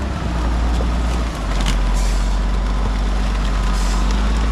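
A heavy landfill compactor works along the edge of a busy landfill, its diesel engine a loud, close, continuous rumble with a brief dip early on, and no one speaks.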